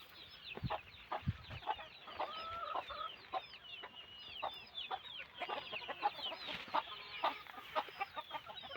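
Free-range village hens cluck and chatter steadily at a poultry farm, with repeated short calls, moderately near, no talking.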